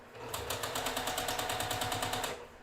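A sewing machine stitching quilt seams, running in a fast, steady, even rhythm of needle strokes for about two seconds, close and clear with no talk over it, then stopping.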